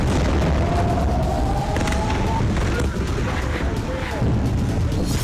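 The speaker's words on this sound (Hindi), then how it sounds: "ईरान ऐसी मिसाइलों से हमले कर रहा है जिससे कई वॉरहेड निकलते हैं और धमाके होते हैं।" Missile warheads exploding in a strike by Iran on Israel, heard as dense, roaring booms and rumbling blasts that fill the whole clip at high level, with continuous low, noisy thunder and no clear gaps.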